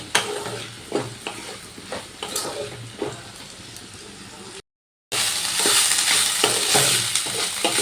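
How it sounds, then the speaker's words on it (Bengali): Banana stem and prawns frying in a pan, with a loud close sizzle broken by repeated scraping strokes of a spatula, a short gap, then a brighter, stronger hiss of oil. "এবার সব কিছু ভালো করে ভাজা ভাজা করে নেব"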